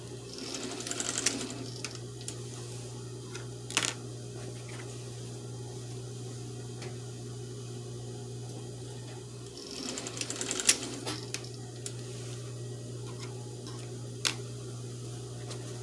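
Sewing machine stitching a market bag, its quick mechanical whir running in two bursts with sharp ticks, close and moderately loud, with a steady low hum throughout.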